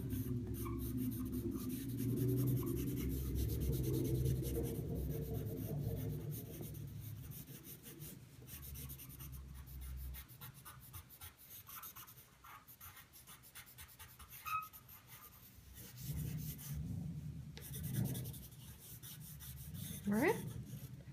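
A pencil sketches a gesture drawing on paper, giving soft, continuous scratching and rubbing strokes of varying pressure, close and fairly quiet throughout.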